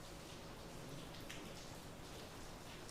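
Rain falls into a cell block at Eastern State Penitentiary, where half the roof is missing, making a faint, even patter and hiss with no break.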